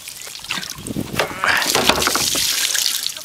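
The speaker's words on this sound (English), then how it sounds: "Let's turn this big garden hose on and give it a clean." Big garden hose spraying water onto a broom, an uneven splashing rush that builds over a few seconds, close and moderately loud.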